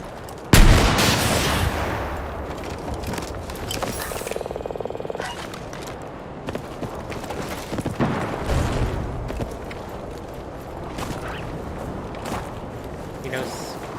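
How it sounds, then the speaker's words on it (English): Gunfire in a video game played against cheaters: a loud burst of shots at the start, followed by scattered lighter shots and impacts beneath continuous talk. "So they just shoot you through the smoke."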